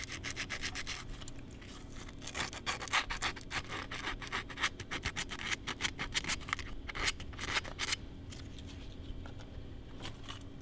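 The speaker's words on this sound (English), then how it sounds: "I'll take a little piece of sandpaper and just touch it up to get any little corrosion off of them" Sandpaper rubs corrosion off the spade connectors of a SnowDogg snow plow, a steady close scratchy scrubbing with quick back-and-forth strokes that runs continuously, with no talking.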